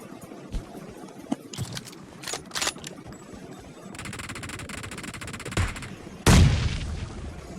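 Gunfire in the PUBG video game, including the M24 sniper rifle, heard as loud sharp shots scattered through the clip, a sustained rapid burst in the middle and a heavy blast near the end.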